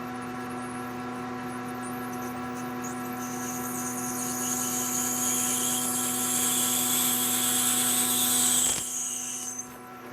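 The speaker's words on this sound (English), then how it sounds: "And this being Delrin, it should drill very easily" An 8 mm bit drills a hole in Delrin plastic, a steady machine hum with a high whine building over several seconds before cutting off near the end.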